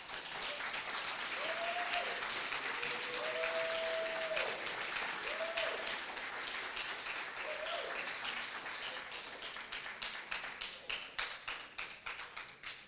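Sustained audience applause fills an anniversary dinner hall, a dense steady clatter of many hands that thins into scattered individual claps toward the end, with a few brief tonal sounds over the top and no speech.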